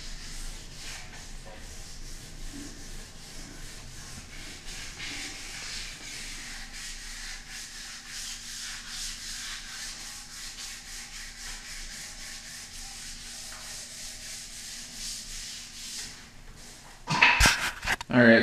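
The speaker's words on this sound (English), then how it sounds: "I got it wet sanded down again" Steady, soft rubbing from wet sanding of a spray-painted mirror frame continues throughout under occasional talk, ending in a few sharper knocks.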